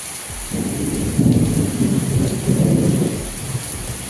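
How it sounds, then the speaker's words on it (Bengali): Heavy rain hisses steadily while deep rolling thunder rumbles in two long swells, loud and near, with no voices. "কত জোরে বৃষ্টি হচ্ছে না ওইদিকে দেখো"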